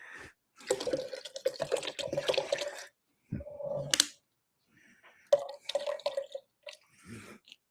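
Water runs and splashes close by in short, uneven bursts, with dripping and brief silent pauses between them, at a fairly faint level.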